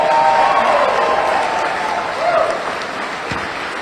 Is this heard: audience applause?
yes